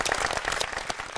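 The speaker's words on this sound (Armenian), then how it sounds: "ծափարենք" Applause from a studio audience at an Armenian televised quiz-style evening show as contestants' points are announced, a steady dense wash of clapping filling the whole short stretch with no voices over it.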